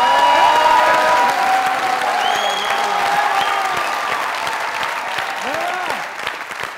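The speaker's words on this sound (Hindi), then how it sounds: "जोरदार तालियां, जोरदार।" A studio audience at a comedy show breaks into loud, sustained applause with some crowd noise and cheering, while voices glide in and out over the clapping and the applause tapers off near the end.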